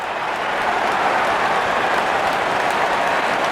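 A cricket crowd at a Pakistan versus India match applauds a wicket, steady dense clapping that holds strong and even throughout.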